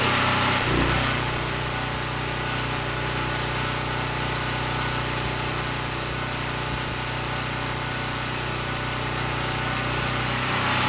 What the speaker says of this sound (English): I'm running it remote off of a generator